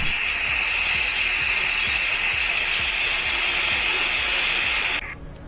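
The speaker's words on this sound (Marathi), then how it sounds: "कुकरला मी सिट्या देणार आहे।" A pressure cooker of pav bhaji vegetables whistles with a loud, steady hiss of escaping steam and a fast rhythmic rattle underneath. It runs for about five seconds, then cuts off abruptly.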